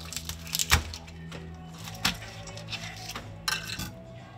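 A knife crunches through the shell of a cooked lobster, cutting it in half, with sharp cracking and clinking hits near 0.7, 2.1 and 3.5 seconds over a low steady background hum.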